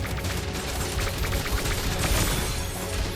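Dense, continuous gunfire from an online match, loud and sustained bursts of rapid shots layered over one another with no pause, filling the whole stretch without any voices.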